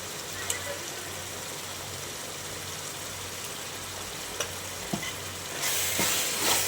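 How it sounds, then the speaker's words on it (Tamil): Egg frying in a pan with yogurt mixed in, a steady close sizzle with a few faint clicks, the hiss swelling louder near the end. "பாருங்கள், நல்ல முட்டை வெந்து வாசனை வர ஆரம்பிச்சிருக்கு."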